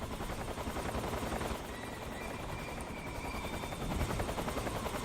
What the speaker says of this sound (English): A little worried about that helicopter.